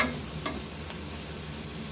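Onions sauté in a pan until softened and shrunk, giving a close, steady sizzle with a couple of sharp stirring scrapes near the start, no voices.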